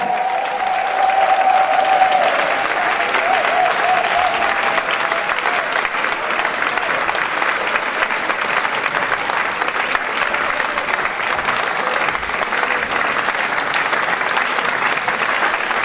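A church congregation claps and cheers loudly for several seconds, a dense, sustained wash of applause with a sung or shouted tone near the start and no break in the clapping.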